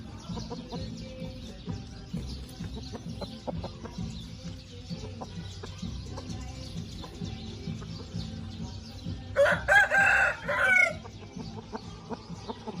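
Young chickens in a pen cluck steadily amid farmyard noise, and a rooster crows loudly near the end, standing out briefly before the clucking continues.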